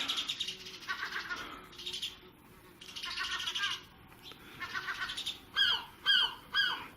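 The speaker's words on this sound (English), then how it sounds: "The birds are having a good laugh at this, including the seagull in our chimney." Bird calls over faint background hiss, ending in three loud, harsh squawks close together from a seagull in a chimney.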